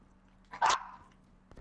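A dog gives a single sharp bark, fairly close and loud, standing out against a quiet background.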